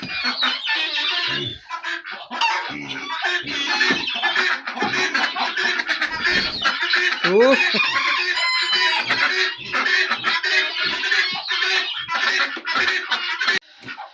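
Guinea fowl and ducks call loudly and continuously inside a village barn on a snowy morning, a dense chorus of harsh, repeated clucking cries close by, with a single brief exclamation from a person.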